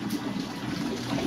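Water trickles and splashes steadily into a compost tea maker at a garden display, a continuous close, moderately loud burbling flow with no talk over it.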